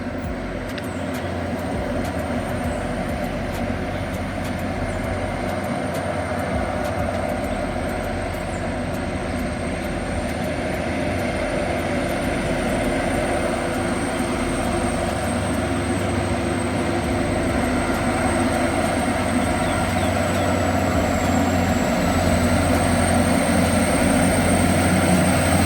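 Loaded container truck labouring up a long hill in St James, a steady heavy engine drone with a sustained whine, continuous and fairly loud, with no clear gear changes or jake-brake bursts and no talking.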